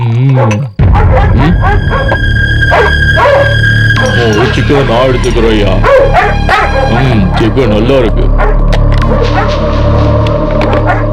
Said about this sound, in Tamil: என்னையாங்க நாய் குலைக்குது?